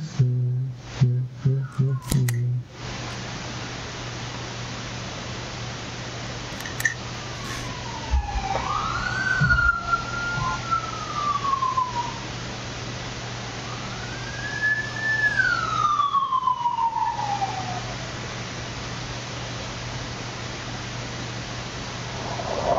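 Siren wailing from a police motorcycle with sidecar in This Is the Police 2, rising and falling sweeps heard at moderate distance over a steady hum, after a few brief clicks at the start.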